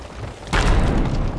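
A gunpowder keg goes off against an enemy ship in Sea of Thieves: a sudden loud boom lands midway, followed by a sustained rumbling roar and debris noise that stays loud to the end.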